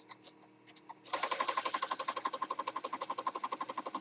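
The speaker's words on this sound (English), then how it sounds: "I'm just going to stitch down." A sewing machine runs a zigzag stitch with black thread after a few light clicks, then settles into a fast, even, close mechanical chatter that continues to the end.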